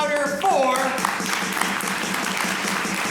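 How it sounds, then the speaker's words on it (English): Audience applause at a ComedySportz improv comedy showcase, steady dense clapping that builds and stays loud after a voice speaks at the start. "we're going to get them out here with an uproarious applause, starting at 5 with a tiny, polite golf clap"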